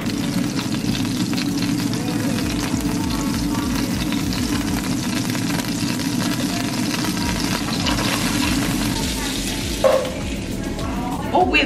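Vegetables fry in butter in a pan after rice is cooked, a dense, steady sizzle close up with low rumbling underneath and a couple of brief clatters near the end.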